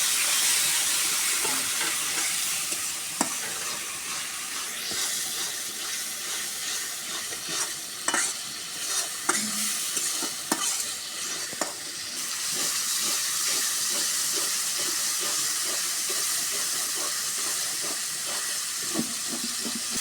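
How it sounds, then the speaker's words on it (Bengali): Spices sizzle steadily in hot oil in a pan, with a loud continuous frying hiss. Frequent scraping clicks and taps of a spatula stir and press the mixture, close up and with no one talking. "মশলা দিয়ে আমার কত সুন্দর তেল ছাড়ে গেছে এখন সুন্দর করে কষে নিচ্ছি"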